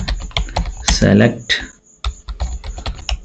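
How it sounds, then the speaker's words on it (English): Rapid keystrokes clatter on a computer keyboard during a MySQL lesson, in quick irregular bursts with a short pause, while a person speaks briefly over the typing. "Now I'm typing"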